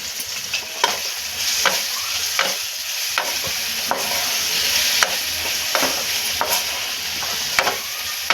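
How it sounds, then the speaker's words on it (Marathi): Tomato, coriander and salt mixture sautéing in oil in a pan, with a steady sizzle and repeated scraping stirs of a spatula at regular intervals, close and fairly loud. "थोडीशी कोथिंबीर टाकू चवीपुरतं मीठ आणि हे सगळं मिश्रण आपण दोन मिनटं परतून घेऊया"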